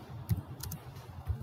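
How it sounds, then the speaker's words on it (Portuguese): Keys pressed on a computer keyboard, including the Enter key: a few faint, close clicks and taps spread over a second and a half in a quiet room. "E agora eu dou Enter aqui, copio e arrasto."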